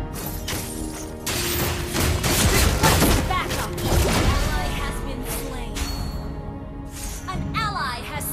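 Layla's energy gun fires repeatedly in a Mobile Legends match, rapid sharp shots and impacts layered over game effects and character voice lines, loud and busy.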